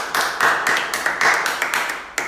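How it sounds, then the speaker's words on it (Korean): A short burst of hand clapping, about a dozen sharp claps in quick irregular rhythm, close and fairly loud, from a small group cheering for a member's mother during a livestream. "어머니를 위한 박수 한 번"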